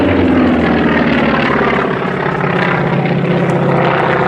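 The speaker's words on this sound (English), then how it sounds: "Very highly manoeuvrable, the Wildcat" A Grumman Wildcat warplane flies at the Duxford Flying Legends airshow, its radial piston engine and propeller giving a loud, throbbing drone that shifts pitch as it passes close by.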